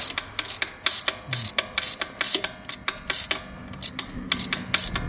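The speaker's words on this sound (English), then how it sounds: "the cheap ratchet, you can tell it's a cheap ratchet because it sounds like Big Ben" A cheap ratchet wrench clicks in quick repeated bursts of sharp ratcheting while loosening tight bolts during roadside work on a broken-down Nissan 300ZX, close and loud with short pauses between strokes.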